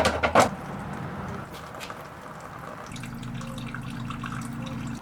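Coolant is poured into an EK Honda Civic hatchback with a steady, trickling liquid flow. A few clunks are heard at the start, and the pouring continues at a moderate level.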